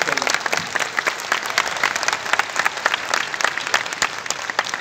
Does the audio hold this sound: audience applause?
yes